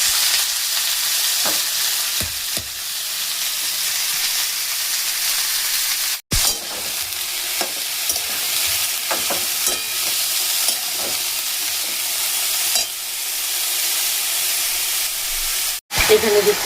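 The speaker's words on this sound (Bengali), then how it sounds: "কড়াই তেল বসিয়ে দিয়েছি বিনস আর দিয়েছি গাজর। আগে এগুলোকে ভেজে নেব" Beans and carrots frying in oil in a wok for fried rice: a loud, steady sizzle and hiss with occasional stirring scrapes and two brief dropouts.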